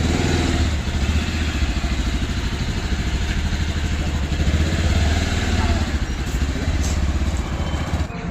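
A motorcycle engine runs at idle in a garage, a loud, close, steady throbbing chug that continues evenly for the whole stretch.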